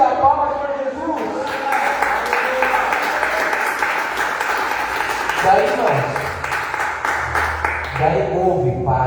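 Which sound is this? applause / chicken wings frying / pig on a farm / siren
applause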